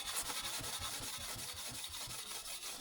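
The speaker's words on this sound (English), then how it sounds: "what you're hearing is the scourer catching on the dirt" Quiet, rhythmic scrubbing close by, a steel scourer catching on dirt on an oven door's glass, a gritty rubbing stroke repeated back and forth at a steady pace, with no voices.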